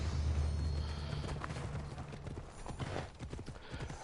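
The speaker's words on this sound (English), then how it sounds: "One horse." Horse hooves clip-clop in a steady rhythm in the video game Assassin's Creed Odyssey, fairly loud and close over a low game soundscape, with no talk.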